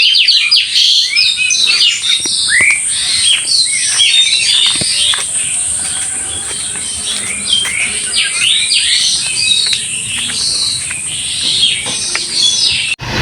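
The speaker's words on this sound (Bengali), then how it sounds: "এখানে অনেকগুলো পাখি মারামারি করতেছে, কোনো কিছু নিয়ে মনে হয় ভাগাভাগি কম পড়ছে, যার কারণে এরকম ডাকাডাকি করতেছে" Many birds squabble and call at once in a dense, continuous chorus of overlapping chirps and shrill cries, with a steady high insect-like whine running underneath throughout.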